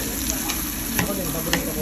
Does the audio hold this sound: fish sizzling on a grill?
yes